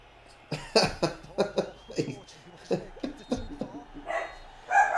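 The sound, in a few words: dogs barking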